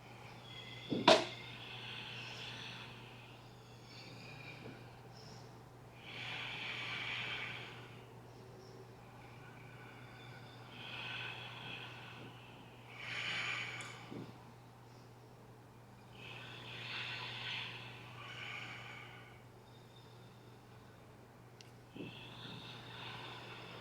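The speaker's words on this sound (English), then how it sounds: "stay there for 5 more deep breaths" Slow deep yoga breaths held in a pose, soft airy inhales and exhales rising and falling in a steady rhythm about every five seconds, faint against a low hum, with a sharp knock near the start.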